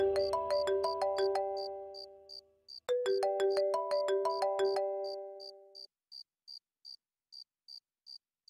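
A telephone ringtone plays loudly in an indoor drama scene, a repeating melodic tone pattern that stops after about six seconds, followed by short periodic beeps.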